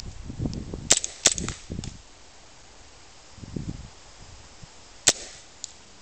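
Sharp gas-blowback shots from a WE M9 Cutlass airsoft pistol outdoors: three crisp cracks early on, a single loud pop near the end and a fainter one after, with brief rustling in between.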